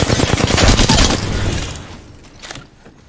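Rapid first-person shooter gunfire, a dense loud burst of automatic shots for about two seconds, then fading to scattered quieter shots and a brief final flurry.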